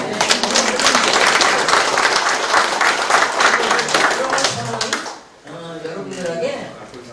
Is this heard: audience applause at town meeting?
yes